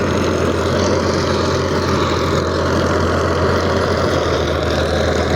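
A Euro Ford 4560 60 HP tractor pulls a 42-blade rotavator in low gear, giving a loud, steady, close low engine drone with churning noise and no breaks.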